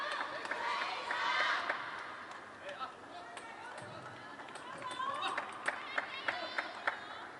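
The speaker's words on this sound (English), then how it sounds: "the crowd once again getting behind their player" A crowd cheers and claps for a player at a table tennis match in Doha's Lusail Arena, rising in an early swell and then settling into scattered claps, with commentary heard over it.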